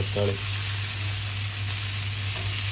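Chopped tomatoes sautéing in a pan for rasam, a steady close sizzle with a low hum underneath and a couple of brief stirring clatters near the start and end.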